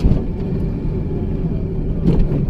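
A car engine hums steadily with low rumbling road noise throughout, a slight swell near the end as the vehicle moves along.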